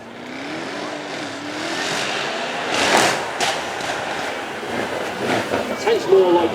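A Mercedes E63 revs at the Beaulieu Supercar Weekend, its engine note climbing at moderate distance before breaking into sharp cracks and bursts amid outdoor crowd noise.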